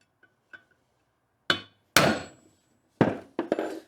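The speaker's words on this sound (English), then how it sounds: "Give it a few whacks down through." A hammer delivers several sharp whacks during a drill press restoration: a couple of light taps, then four or five loud, close blows with short pauses between them in an otherwise quiet space.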